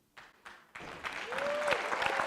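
A room of teachers bursts into clapping, starting with a few scattered claps and swelling into steady, fairly loud applause, with a faint voice briefly rising through it.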